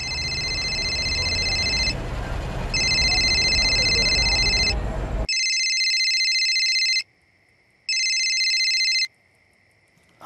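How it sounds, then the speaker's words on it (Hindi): An electronic telephone ring sounds in repeated bursts during a call, with steady rhythmic pulses separated by short gaps, then switches to a cleaner, quieter ringing tone with longer pauses. "आप गोवर्धन चाचा को फोन लगाइए ना"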